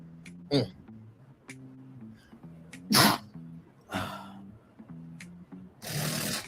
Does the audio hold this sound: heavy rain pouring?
no